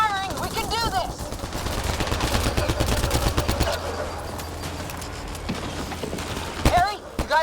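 Rapid bursts of gunfire in the sci-fi shooter game Mass Effect Andromeda, dense loud volleys with sharp cracks and whizzing effects, with characters shouting over the combat.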